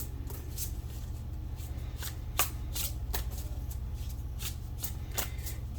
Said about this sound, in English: So let's pull a few cards.